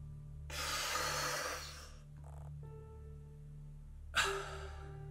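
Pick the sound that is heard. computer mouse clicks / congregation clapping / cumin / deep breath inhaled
deep breath inhaled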